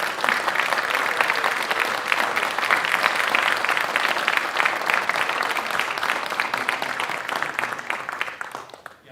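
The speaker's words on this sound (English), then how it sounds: "Please give them another round of applause." Sustained applause from a school awards audience honoring board scholars, many hands clapping loudly and evenly for about nine seconds before easing off at the end.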